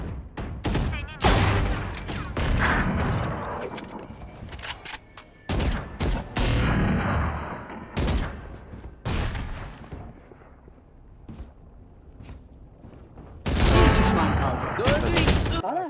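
Bursts of gunfire from the video game Valorant crack out in rapid volleys between short pauses, loud and close, with a final heavy burst near the end, while players talk excitedly over the shooting.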